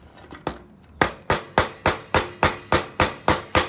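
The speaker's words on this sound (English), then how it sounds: "we're gonna hammer it down just a bit, not crazy, but we're gonna get it in a little bit tighter here" A hammer taps a collet tighter on a Westclox Baby Ben Style 8 alarm clock resting on a sawhorse. About a dozen sharp metallic strikes come close and evenly spaced, a few softer hits first, then a steady rhythm.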